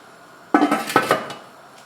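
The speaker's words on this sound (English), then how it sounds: "now I'm going to put the lid on it and let it boil" A metal lid clanks onto a pot of quince marmalade with a few quick clattering knocks, close and sharp, then a soft final tap before quiet.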